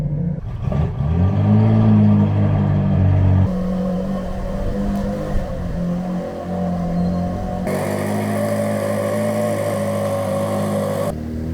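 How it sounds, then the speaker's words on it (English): A Ferrari 458 Italia with a naturally aspirated V8 idles while warming up, a loud steady low drone with a brief early rise in pitch and shifts in tone as the sound changes partway, no talking. "So just as we let it warm up, obviously 458 Italia, naturally aspirated V8, an absolute beauty."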